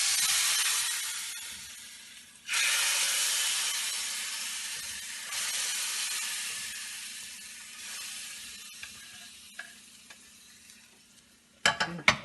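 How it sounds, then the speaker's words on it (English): Hot curry tempering hisses and sizzles loudly as it is poured into a Gujarati curry, with bursts of sizzle fading away, followed by faint clinks and kitchen handling noises at the end. "Give the curry a gentle stir. Add the tempering to it."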